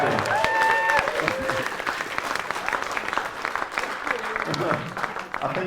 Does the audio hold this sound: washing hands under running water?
no